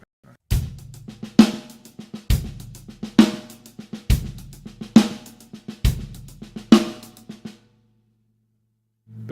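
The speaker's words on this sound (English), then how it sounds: "For example, paradiddle diddles." Drum kit playing a paradiddle-diddle rudiment in repeated grouped phrases of strokes, close and clear with no talking, ending in a brief silence before one final hit.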